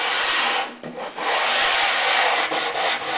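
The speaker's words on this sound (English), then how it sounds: "My sanding block is just a piece of MDF with sandpaper wrapped around it" Sandpaper wrapped around an MDF block rubs along the wooden edges of a table leaf in a few firm back-and-forth strokes, close and loud with short pauses between passes.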